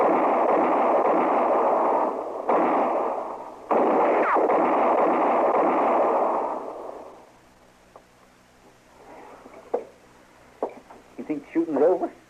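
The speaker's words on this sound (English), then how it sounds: "You think the shooting's over?" Rapid gunfire fills a radio-drama shootout, a loud sustained volley of shots with brief breaks that ends abruptly, followed by quiet and a few faint knocks and sounds.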